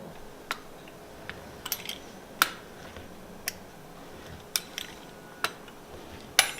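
A knife cuts cheese into squares for keto crackers, giving sharp, sparse clicks and taps on a board at irregular intervals, close and quiet with no talking.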